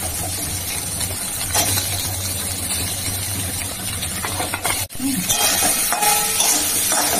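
Potatoes drop into a pan of soybeans frying with cumin, giving a steady close sizzle and a brief clatter as they land, then the frying carries on under stirring.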